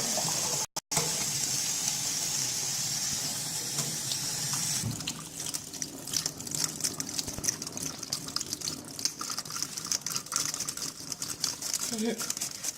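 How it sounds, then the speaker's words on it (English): Warm tap water pours from a faucet over food in a sink while preparing Cameroonian cuisine, a steady loud rush with crinkling handling noises, and a voice speaks over it. "take a handful, and put it in, and then I get some warm water over it"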